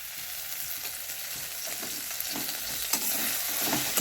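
Banana flower curry with ghee and garam masala cooks in a hot pan, a steady close sizzle with soft stirring scrapes throughout.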